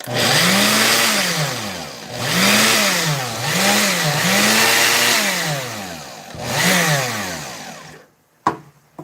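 An electric food processor grinds eggroll filling with a loud, close whirring drone whose pitch repeatedly sags and recovers as it bogs under load, then stops with a brief clunk at the end.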